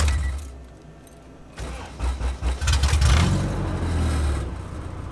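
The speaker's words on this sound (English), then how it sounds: "I'm gonna go ahead and shut the car off and then start it again." A Honda Civic EG hatch with a fully built LS VTEC engine cranks briefly, catches and fires up, then settles into a loud, rough idle with a few throttle blips, heard up close after a jangle of keys.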